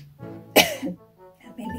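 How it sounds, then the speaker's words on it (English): A single sharp cough bursts out close and loud in the middle, surrounded by voiced speech sounds before and after. "That made me cough."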